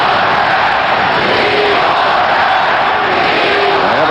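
Loud, steady roar of an arena crowd at a 1989 first-round NHL playoff game between Calgary and Vancouver, reacting to an unpenalized hit. The dense, sustained noise fills the whole stretch with a few shouts rising out of it.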